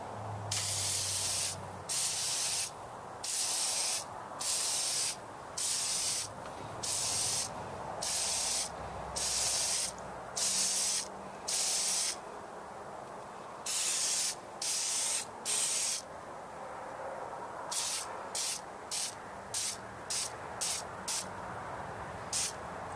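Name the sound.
spraying oil onto an air filter's pleats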